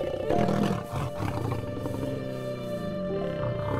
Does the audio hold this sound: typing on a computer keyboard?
no